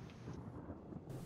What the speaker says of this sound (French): un orage et un coup de tonnerre s'écrase en plein milieu de Yester Hill